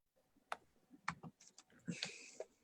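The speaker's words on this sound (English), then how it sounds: "So type in a question." Computer keyboard typing during a mortgage and real estate webinar: a short, faint run of scattered key clicks with uneven spacing, heard alone.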